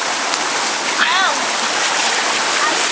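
A waterfall and stream pour steadily with a loud, constant rushing roar that fills the scene, and a faint high call rises briefly over it.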